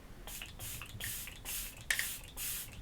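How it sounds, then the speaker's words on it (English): Several short bursts of hissing spray from an e.l.f. Stay All Night Microfine Setting Mist bottle, separated by brief pauses and faint handling clicks. "So this is the Stay All Night Microfine Setting Mist."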